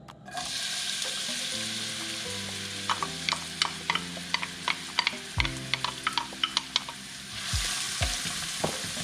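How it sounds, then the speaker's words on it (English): Onions sizzling and frying steadily in hot olive oil, with a spoon stirring and scraping the pan in quick irregular clicks, close and clear with no voices. "So I'm gonna put the onions in now."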